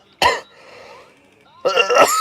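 Two short, harsh coughs from a person, close and loud, separated by a quiet pause of just over a second.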